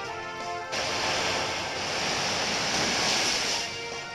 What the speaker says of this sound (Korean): 타보자, 파도를.